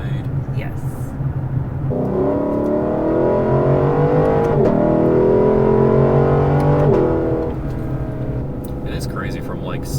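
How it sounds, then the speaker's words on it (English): A Lexus LC 500 on its factory exhaust revving loud and close, the engine note rising, holding for several seconds and then dropping back to idle. "this is like a factory exhaust and it's like actually loud"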